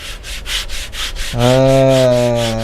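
A hand rubs back and forth over rough, unclayed car paint in about ten rhythmic strokes, then a steady tonal drone comes in beneath the rubbing.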